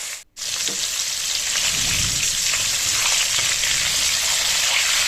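Hilsa fish pieces dropped into hot mustard oil in a wok burst into a loud, dense hiss that holds steady like heavy rain, after a brief gap at the start.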